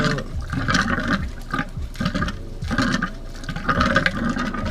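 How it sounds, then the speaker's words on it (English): Water gushes from an RV outdoor shower on a 1984 Ford Shasta vintage trailer once the pump is switched on, a steady close splashing rush with pulsing surges. "Let's turn on the water pump. And there it is. It's coming out."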